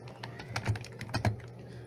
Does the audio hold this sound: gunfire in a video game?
no